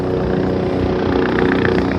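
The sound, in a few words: helicopter approaching, Kedarnath helicopter service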